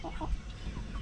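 A duck in a backyard garden gives a few short nasal calls in quick succession at close range, with no talking.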